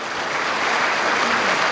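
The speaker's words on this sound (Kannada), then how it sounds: "ಒಂದ್ಸರಿ ಜೋರಾಗಿ ಚಪ್ಪಾಳೆ ತಟ್ಟಿ ಅವರಿಗೆ ಗೌರವ ಸಲ್ಲಿಸರು" Loud, sustained applause from a gathered audience at a spiritual discourse, a thick wash of many hands clapping close by, continuous and even from start to end.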